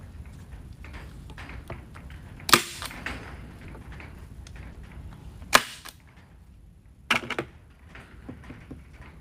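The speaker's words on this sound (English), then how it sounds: "gonna use our staple gun on each side" A staple gun fires three times at spaced intervals, each a sharp close snap, while fastening a sign onto a grapevine wreath; quiet room tone fills the gaps.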